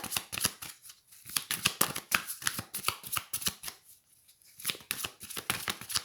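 Oracle cards are shuffled by hand close up, making rapid, crisp flicking riffles in uneven bursts with brief pauses between them. No voices are heard.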